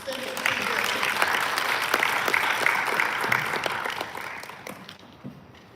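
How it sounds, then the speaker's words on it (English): Sustained audience applause fills the room at a launch event for an LMIS system, steady and dense for several seconds before thinning out and fading toward the end. "I would like us to give them the last round of applause as they stand up"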